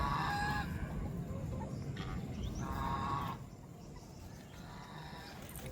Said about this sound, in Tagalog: Pabo natin. Naglilimlim yung babae natin na pabo guys.